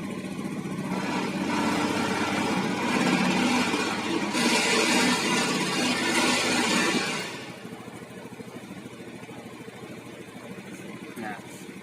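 A fuel-injected motorcycle engine runs during a test, a steady mid-pitched drone that swells and holds, then drops to a quieter idle-like hum in the last seconds, with talking over it.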